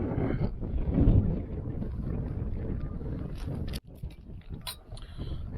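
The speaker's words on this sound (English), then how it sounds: "That's exactly how windy it is." Strong wind buffeting the microphone in a continuous low roar outdoors while cooking on a camp griddle plate, broken by a sudden drop and then some clattering handling noises.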